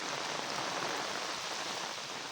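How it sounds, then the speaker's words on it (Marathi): Steady, dense hiss of heavy rain pouring down without pause over rice fields in Konkan, India, even and close, with no voices. "आता व्हिडिओज करता करता लगेच पाऊस आलेला आहे इथे जोरातच आलेला आहे पाऊस"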